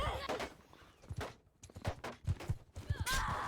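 Horses gallop and neigh during a cavalry battle in a multiplayer medieval game, with a quick run of hoofbeats, a whinny near the end and a faint voice underneath.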